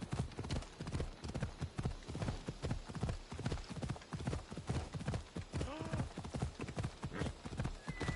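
Horse hooves in Assassin's Creed Odyssey clip-clop in a brisk, even galloping rhythm, loud and close throughout, with a short neigh midway and no talking.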